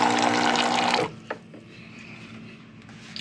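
A Gaggia Evolution espresso machine priming, with a loud rush of water and pump hum that cuts off after about a second, leaving a low steady hum and faint clicks.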